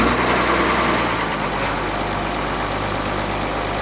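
A tractor engine runs in the snow with a close, steady low chugging rumble and no pauses, like an engine settled into idle just after starting.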